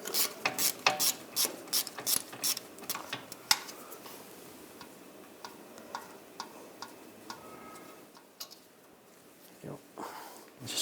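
A ratchet fitted with a T30 socket clicks rapidly while backing out a wheel speed sensor screw on a 2009-2017 Volkswagen Tiguan, quiet close-up ticking in bursts with short pauses between strokes.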